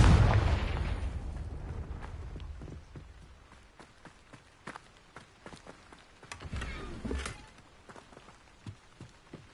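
The Confringo blasting spell in Hogwarts Legacy goes off with a loud, close explosion that rumbles and decays, followed by scattered debris crackles and pops, then a second softer rumbling burst.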